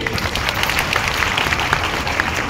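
An audience at a birthday celebration event in Bankura applauds with dense, continuous clapping that stays steady and fairly loud for the whole moment.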